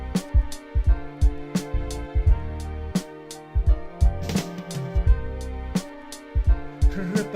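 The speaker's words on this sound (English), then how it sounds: "And then let's hear the drum fill." Sampled drum fill triggered from an Akai MPC3000, a run of punchy kick, snare and hi-hat hits in a steady, busy rhythm, loud and close with no voices.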